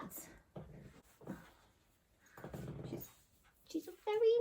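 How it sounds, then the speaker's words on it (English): A puppy whimpers and lets out small growls in short bursts, close and fairly quiet, ending in a higher-pitched whine. "She's a very naughty puppy."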